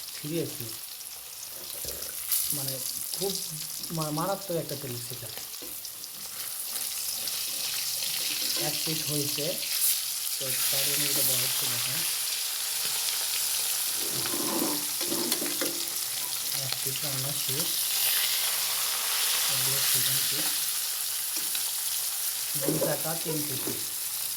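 Hilsa fish frying in hot oil, a loud continuous close sizzle with spattering crackle throughout, while someone talks intermittently over it.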